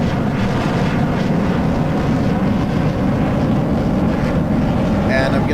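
An F-104 jet engine in a flight simulator roars as a constant, loud, broad rumble throughout, with a faint voice speaking near the end.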